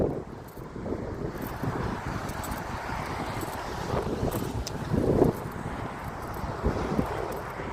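Cold outdoor wind buffets the microphone in a steady low rumble with gusty swells, loudest around the middle, and no talking.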